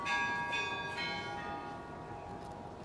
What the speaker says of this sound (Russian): А вот и перезвон знаменитый.